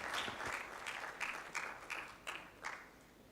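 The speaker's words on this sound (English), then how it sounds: "A bigger hand of applause to these critical statements" Faint audience applause in a formal hall, sparse rhythmic clapping with a few distinct louder claps, distant and brief with no talk.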